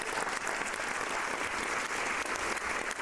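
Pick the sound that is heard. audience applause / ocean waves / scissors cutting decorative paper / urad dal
audience applause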